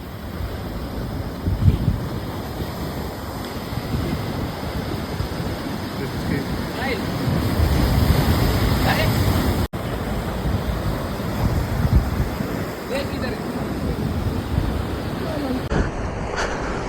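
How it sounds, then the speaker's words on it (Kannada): Sea waves break and wash onto the beach at Maravanthe, a steady roar of surf mixed with wind buffeting the microphone, with a louder swell surging midway and no talk over it. "ಅಲೆಗಳೆಲ್ಲ ಎಷ್ಟು ವೈಟ್ ಆಗಿದೆ."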